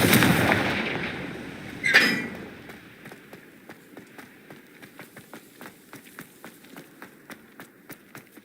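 A Confringo fire spell cast in the video game Hogwarts Legacy: a loud burst of fiery blast near the start, a sharp crackling impact at about two seconds, then a string of small regular crackles and pops fading away.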